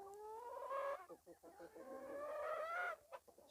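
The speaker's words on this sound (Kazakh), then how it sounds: "Қораздар мына жерде тұрады." Roosters on a small farm, eight birds including a two-year-old, give loud drawn-out clucking calls close by, two long rising cries separated by short scuffling sounds.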